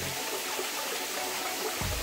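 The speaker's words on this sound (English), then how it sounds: "all these waterfalls are just a little bit of a trickle" Small waterfalls barely trickling in a low summer stream on Mt Chocorua in New England, a steady, even wash of running water close by, with no voices.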